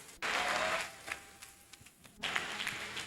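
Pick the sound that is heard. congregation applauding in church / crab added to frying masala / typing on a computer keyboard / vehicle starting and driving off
congregation applauding in church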